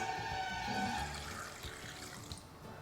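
Water pouring into a cooking pan while making ema datshi, a Bhutanese chilli and cheese curry, a steady close splashing stream that tapers off after the first second into fainter trickling.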